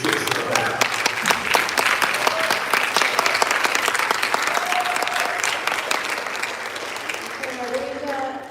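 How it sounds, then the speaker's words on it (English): Audience applause in a school board meeting room, sustained dense clapping from a crowd that carries at a steady level, with some faint voices mixed in beneath it. "Please give us a clap."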